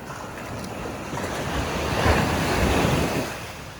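Ocean surf washing onto a beach at Playa Poppy, a steady close roar of breaking waves mixed with wind buffeting the microphone, swelling louder midway before easing slightly, no talking.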